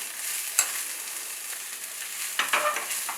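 A salted South Indian dish, part of a traditional shraddha meal cooked with rasam and coconut, is being stirred in a pan. Soft continuous scraping and light frying hiss run throughout, with a sharp clink near the start and a few louder stirring scrapes toward the end.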